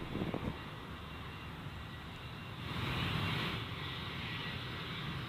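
An airplane departs Gold Coast Airport with a steady, loud engine roar that swells midway and stays constant, heard from a distance.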